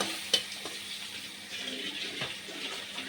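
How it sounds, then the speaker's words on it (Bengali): Rui fish curry masala being cooked down in a pan with a splash of water and potato, giving a steady low sizzle and bubbling hiss with a few soft stirring clicks, close and continuous. "জল দিয়ে এটাকে কষবো, এটাকে কষবো।"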